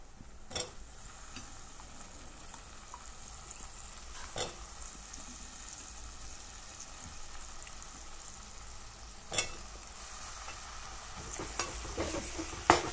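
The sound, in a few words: potato pieces frying in tempering with coriander powder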